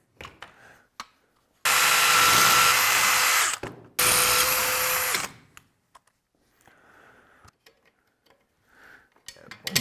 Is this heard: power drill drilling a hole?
yes